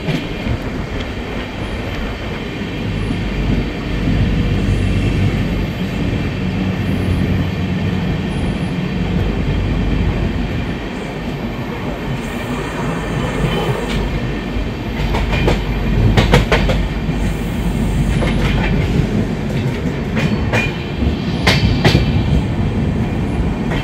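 The Sairang Kolkata Tri-Weekly Express rolls through near Dalkhola with loud continuous rumble and rhythmic clickety-clack of wheels on rail joints, occasional metallic squeals rising above the steady roar.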